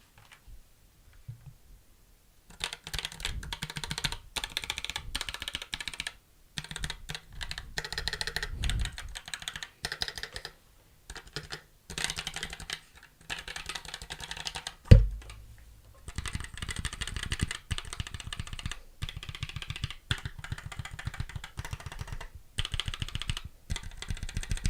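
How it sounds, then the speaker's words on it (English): Typing on a computer keyboard with the microphone placed right up against it and the gain turned up, giving loud, close, continuous key clicks in bursts with short pauses and one sharp thump midway. "not an official typing test, but I'm going to put the microphone really close to it."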